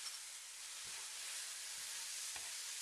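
Mushrooms fry with soy sauce and garlic for Korean beef and vegetable noodles, giving a steady, close sizzle broken by a few soft knocks of stirring.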